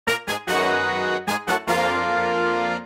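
Dry, effect-free layers of a remade beat: bright brassy stabs in a short-short-long pattern, repeated twice, loud and upfront with no reverb.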